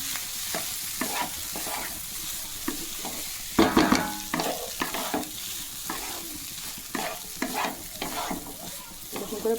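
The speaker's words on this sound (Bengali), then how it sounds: "আগে আমি এটা ভাজা ভাজা করে নেব" Leftover rice with cumin powder and coriander leaves frying and being stirred in a pan, repeated scraping strokes of a spatula over a steady low sizzle, close up, with one louder clatter near the middle.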